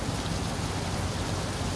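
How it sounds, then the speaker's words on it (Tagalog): Steady, dense rain pours down continuously, a heavy unbroken hiss with a low rumble underneath, no voices. "malakas ng ulan"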